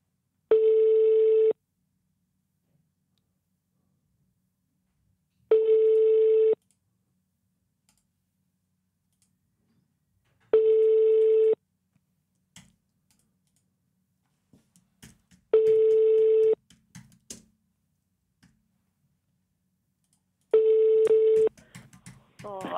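An unanswered telephone call to a Swedish workplace: five evenly spaced ringback tones, each about a second and a half long, repeat at steady five-second intervals with silence between them, and faint rustling noises occur near the end.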